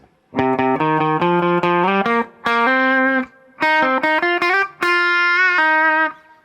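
A distorted electric guitar plays a quick run of notes in three bursts, ending on a sustained note with vibrato.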